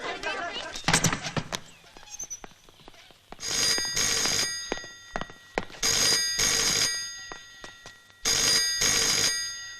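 A telephone bell rings in repeated long bursts, loud and near, with voices and shuffling around the rings in a tense indoor scene.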